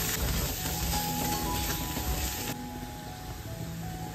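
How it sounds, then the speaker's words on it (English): Sautéed onion with red chili powder and turmeric powder cooking in a pan, a soft, steady sizzle with faint stirring that drops slightly quieter partway through. "Sauté well."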